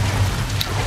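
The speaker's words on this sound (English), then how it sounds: "the rain is making all the water fill up" Steady rain hisses across a rain-soaked city in L.A. Noire as floodwater rises, a dense, even wash of drops with a faint brighter patter, heard alone.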